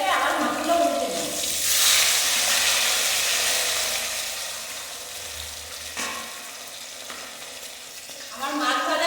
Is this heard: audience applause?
no